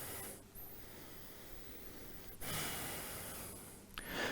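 Soft, close breaths during a yoga rest on all fours, a few airy inhales and exhales with a faint hissy quality against quiet room tone.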